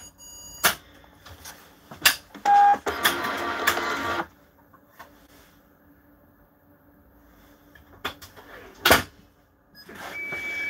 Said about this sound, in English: Excuse me if it gets a bit noisy now, but I do need my disc cleaner on.